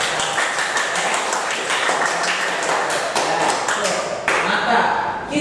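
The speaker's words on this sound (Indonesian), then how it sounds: "Tepuk tangan kita yang biasa." A classroom of students claps hands together in their usual rhythmic pattern, sharp crisp claps falling in quick repeated bursts that fill the room, with faint voices underneath.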